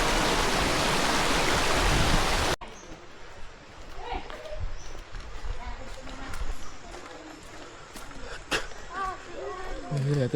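A mountain river on the trail to Mt. Tukduang Banoi in Tanay, Rizal flows with a loud, close rush for about two seconds, then gives way to a quieter outdoor scene with scattered voices and faint background noise.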